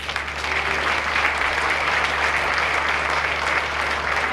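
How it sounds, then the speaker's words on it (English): An audience at a township Junior Police Academy graduation claps steadily and loudly, a dense wash of applause lasting several seconds. "So if you don't mind giving him a round of applause."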